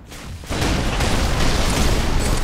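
A grenade blast in the video game Halo 3 erupts as a loud, sustained booming roar that swells suddenly and stays dense and heavy, with no talk over it.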